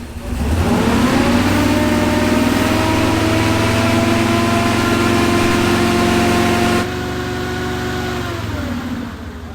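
An off-road wrecker engine revs up and then runs steadily at a loud, close, even pitch before easing to a lower idle near the end.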